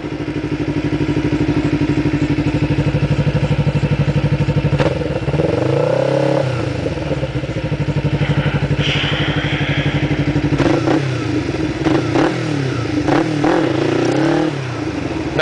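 A motorcycle engine revs hard and repeatedly during wheelie practice, climbing to around 5,000 RPM, loud and close, with steady rising and falling throttle sweeps and a few clunks and thuds as the bike lifts and drops.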